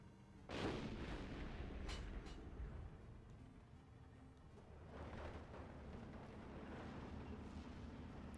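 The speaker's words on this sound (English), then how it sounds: "The artillery starts shooting." Artillery fires in the Steel Division II video game, sounding as a few deep distant booms that roll into a low rumbling battlefield background, moderate and muffled, with no talking.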